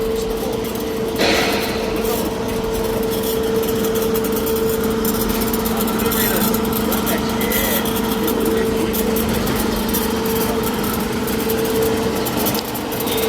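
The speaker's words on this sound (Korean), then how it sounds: "습식으로 뚫는 작업입니다." A trenchless pipe drilling machine runs continuously while drilling wet with water fed through the rods, giving a steady loud engine-like hum with a sharp burst near the start.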